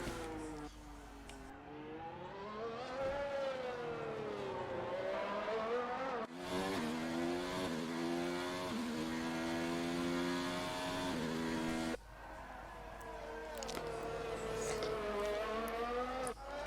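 F1 race cars lap the track in the F1 2019 video game, with high engines rising and falling through gear changes, revving hard out of corners in continuous close-up sweeps and briefly cutting out between runs.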